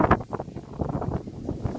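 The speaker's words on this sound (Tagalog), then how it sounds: "Lakas ang hangin." Gusty wind buffets the microphone in uneven, rushing bursts, loud and close, with no voices heard.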